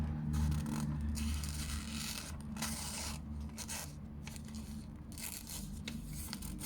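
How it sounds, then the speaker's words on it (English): Oknife multifunctional hatchet making a slow push cut, a continuous close rasping scrape that swells and fades in several strokes. "We'll do a push cut."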